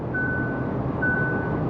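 Two steady electronic beeps, each about half a second long, repeat over a constant low road and engine rumble inside a moving car.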